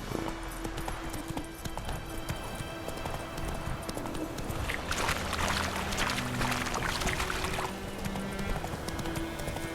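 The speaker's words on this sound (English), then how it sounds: "Whoa there, Roach." Horse hooves clip-clop steadily in The Witcher 3 as the mount moves along, a regular rhythm of close hoofbeats over game music and ambient sound, with some rushing noise midway.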